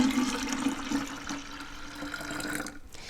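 Agave simple syrup pours into a container of fresh squeezed lemonade, making a steady, close liquid splashing and running sound that fades out near the end.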